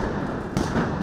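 Muffled booms and thuds burst from a burning straw effigy amid a roaring blaze, loud and fairly close, with two sharper cracks standing out.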